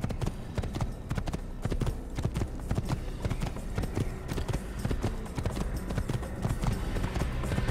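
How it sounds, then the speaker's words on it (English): A horse gallops in Assassin's Creed, its hooves pounding in a fast steady rhythm for several seconds, loud and close over a dense layer of game ambience. "Horse riding."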